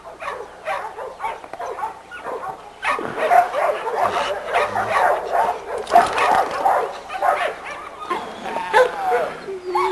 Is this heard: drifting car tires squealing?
no